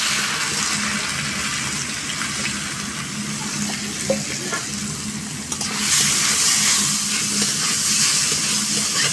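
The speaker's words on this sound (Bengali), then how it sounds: "কড়াইয়ের তেল আমার গরম হয়ে গেছে, আমি দিয়ে দিব এটা" Potato patties fry in hot oil in a wok, giving a steady, dense sizzling hiss that grows louder and brighter partway through, close up with no talking.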